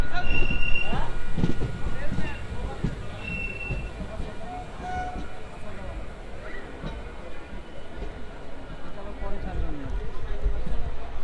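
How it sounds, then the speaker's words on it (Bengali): A passenger train runs on the new Azimganj–Kasimbazar rail route, its wheels rumbling and squealing on the track in a steady roll that swells toward the end, with brief high squeals and people talking nearby. "এটা কিন্তু আজিমগঞ্জ কাশিমবাজার যে নতুন রুট চালু হলো সেই রুট ট্রেন।"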